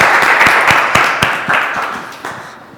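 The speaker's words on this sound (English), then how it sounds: "let's give Andre a round of applause for his presentation" An audience at a 1 Million Cups business presentation in Rockford claps after the talk, a short burst of applause with distinct individual claps that thins out and fades over a few seconds.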